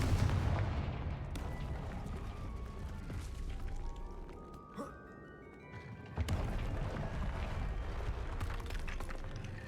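The Confringo blasting spell in Hogwarts Legacy, heard as a dense, continuous roar of booming blasts and explosive rumble with a brief lull in the middle before the barrage surges back loudly.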